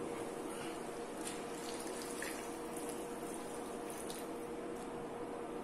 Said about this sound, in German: wir gießen da jetzt einfach noch ein bisschen Wasser hier drauf